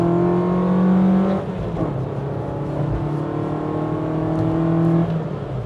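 A Nissan Sunny truck (Datsun 1200) accelerates in second gear, its small engine heard up close with a steady rising drone, a gear-like whine and a shift in tone partway through.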